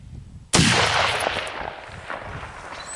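A single sharp rifle shot cracks out close and loud, then trails into a long rolling echo across open ground; the rifle is a 6.5 or .243 chambered hunting rifle fired outdoors.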